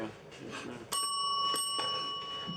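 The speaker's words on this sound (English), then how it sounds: "Maybe you ring the bell." Bright metallic bell rung twice, each strike leaving a clear ringing tone that lingers, with a murmur of voices and room noise underneath.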